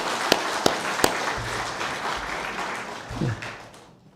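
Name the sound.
congregation applauding in church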